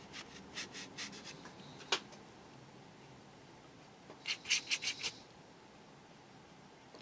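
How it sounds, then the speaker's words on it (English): Soft dry scraping and rubbing of a hand across cardboard while a 1/12 scale Tamiya motorcycle racer figure is painted, a few brief rasping strokes early on and then a quicker cluster of scratches, fairly close and quiet. "So if hand's scraping across the cardboard, that's going to sound shocking in the audio."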